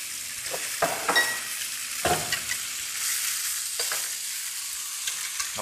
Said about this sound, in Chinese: 用啲肉嘅油哈，順手嚟煎一啲火腿啊，還有鹽腸